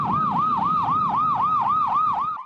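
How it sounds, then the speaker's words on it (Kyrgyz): An ambulance siren on a city street sounds loud and close, rapidly yelping up and down in a steady repeating cycle about nine times with no pause. "Тез жардам унаасы өчүп күйүүчү жарык менен кетип баратса да"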